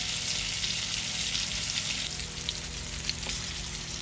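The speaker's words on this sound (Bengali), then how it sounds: "মাছগুলা আস্তে আস্তে মচমচা ভাজি হয়ে আছে" Hilsa fish and pointed gourd frying in a pan, a steady, even hiss of oil sizzling throughout with no voices.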